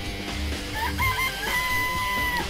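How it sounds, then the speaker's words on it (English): Game audio of chickens in a coop in the Danganronpa video game, with a rooster letting out a loud, drawn-out crow over clucking and a busy backdrop of music or ambience. "It's a chicken coop. There are chickens in it."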